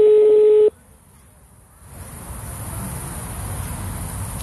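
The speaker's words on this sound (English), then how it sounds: "It's ringing. It's calling." A telephone call's ringing tone sounds as a single loud electronic tone lasting under a second, then cuts off to near silence before a soft background hiss rises and holds.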